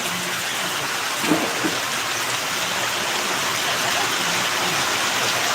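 Steady rain falls outdoors as a dense, even hiss throughout, with a couple of faint knocks early on and no voices.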